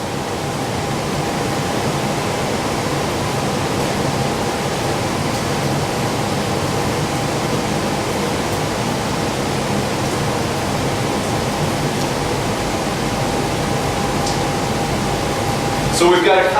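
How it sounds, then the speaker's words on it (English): Steady broadband rush of water flowing through a permeameter in a laboratory, continuous and even throughout, with a faint hum and a brief clatter at the very end. "Make sure we've got enough water flowing through there."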